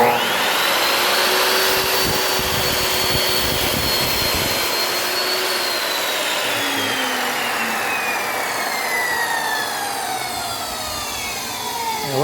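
Miter saw running steadily, loud and close, with a continuous high whine and roar of the blade throwing dust that slowly drops in pitch as it spins down, no voices.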